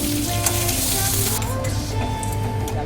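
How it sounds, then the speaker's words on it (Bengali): Potatoes frying in hot oil for a white aloo dum, giving a loud, steady, close sizzle with a few faint clinks, continuous for the whole stretch. "আলুগুলো লাল লাল করে ভাজা হয়ে গেল"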